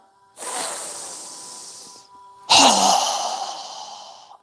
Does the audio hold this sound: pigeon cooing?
no